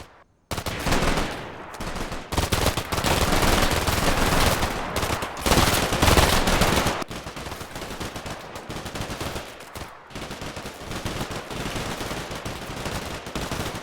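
Dense, sustained gunfire from a squad laying down covering fire in the war game Combat Mission Shock Force 2, loud overlapping rifle and machine-gun bursts rattling almost continuously with brief gaps, no voices.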